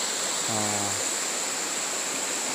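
A large river flows right beside a garden, giving a steady, even rushing wash that fills the whole stretch, with a brief low droning tone rising out of it early on.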